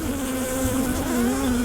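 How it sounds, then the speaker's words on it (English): Dense steady buzzing of many honeybees in a hive brood box, a close continuous drone with no pauses or voices. "So a bunch of bees in the brood box."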